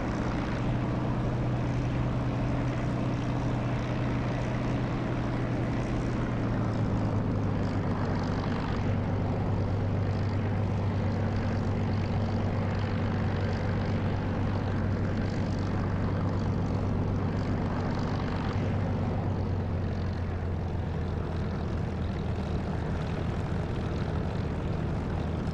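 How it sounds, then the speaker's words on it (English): A Spitfire Mark 9's propeller engine idles and drones steadily while taxiing to the runway in DCS flight simulator, a continuous loud rumble with a slight pitch drop partway through. "Currently taxiing, I'm in a Mark 9 Spit in DCS, Digital Combat Simulator."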